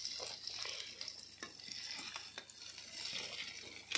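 Paneer fries and is stirred in a pan, a steady soft sizzle with occasional light scrapes, heard alone and fairly quiet.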